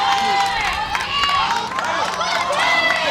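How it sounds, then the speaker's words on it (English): Crowd in the stands at a youth 14U premier baseball game clapping and cheering continuously, a dense steady roar with scattered shouts and whistles throughout. "There's a lot of clapping, a lot of noise."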